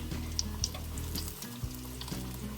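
Luncheon meat croquettes sizzle steadily in a frying pan, a close, even crackle with faint soft clicks and occasional light spatters.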